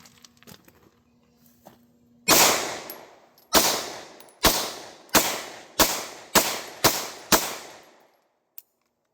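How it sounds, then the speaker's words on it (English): A Hi-Point C9 pistol fires eight loud, sharp shots of 124 grain rounds in a steady string, each crack ringing briefly before the next, with a faint click at the end. "No lock back, but she fired all of them."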